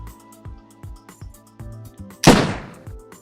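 A single loud gunshot rings out in a video game, a sharp burst with a long fading tail. Before it comes a rhythm of soft repeated thumps and game music.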